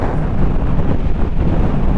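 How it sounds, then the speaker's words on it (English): Loud, steady roaring wind buffeting the microphone while riding a motorcycle at about 30 mph on a gusty day, a dense continuous rush with no other distinct sounds. "Ooh, it's so windy. Even at 30 mile an hour, it's proper gusty today."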